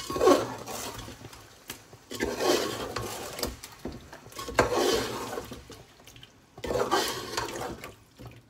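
A spoon stirs yogurt into a pot of home-style chicken biryani over a low flame, making soft, wet scraping bursts about every two seconds with quiet pauses between them, close and fairly faint.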